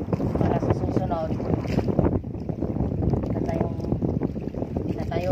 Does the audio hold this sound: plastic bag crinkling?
no